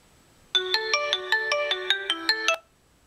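A bright electronic ringtone melody plays from a Xiaomi Note 2 smartphone speaker, about a dozen quick notes in a bouncy rhythm, loud and close, then stops.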